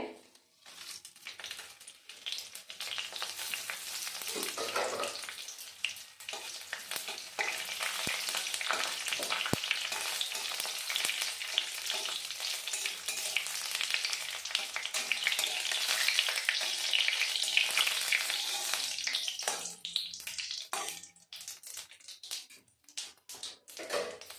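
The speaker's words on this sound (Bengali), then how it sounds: "এবার আমি ফোড়ন দিয়ে দেব দিয়ে দেব সাদা তেল ফোড়নে দিয়ে দেব তেজপাতা শুকনো লঙ্কা আর জিরে" Bay leaf, dried red chilli and cumin sizzling in hot white oil for tempering, a steady loud frying hiss that swells and fades, with light stirring taps and crackles near the end.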